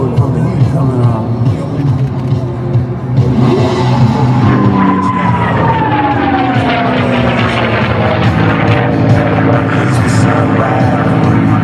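A P-51 Mustang "Crazy Horse" propeller fighter performing at the 2011 Wings Over Wayne airshow, its loud droning engine roaring steadily with a rising and falling pitch sweep as it passes, with crowd or announcer sound mixed in.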